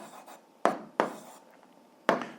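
Someone writes down the answer to an 8th-grade algebra exercise by hand, a few short scratchy pen strokes close by and separated by brief pauses.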